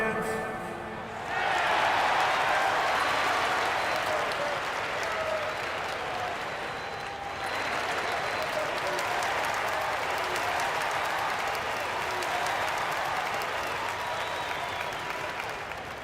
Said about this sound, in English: Get on your feet and get loud, fans.